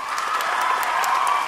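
Audience clapping and cheering at a rap battle, a dense, steady wash of applause that keeps up at an even level from start to finish, with no voices standing out above it.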